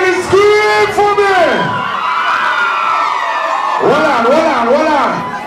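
A concert crowd of women screams loudly at a live reggae dancehall show, with high sustained shrieks rising in two bursts around and between the performer's shouting into the microphone.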